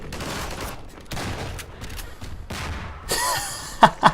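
Gunfire comes through a gate in Half-Life 2 as bursts of rapid shots in several volleys, ending with a couple of sharp, louder cracks close by.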